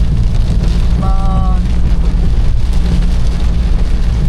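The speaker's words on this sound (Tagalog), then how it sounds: "Bumuhos yung malakas na ulan." Steady, loud downpour of heavy rain with a constant hiss and low rumble, and a brief tonal sound near the start.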